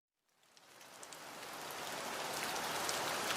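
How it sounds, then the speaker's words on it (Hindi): Cartoon rain effect of a downpour falling on crop fields, a dense steady hiss of drops that fades in from silence and swells louder, with no voices. "बारिशों ने फसलों को बहा लिया"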